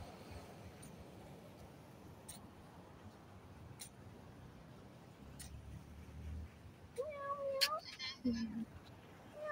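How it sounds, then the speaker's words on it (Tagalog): A cat in a park giving a few soft meows near the end, faint against quiet outdoor background, with a person talking and calling softly nearby. "Meow, meow."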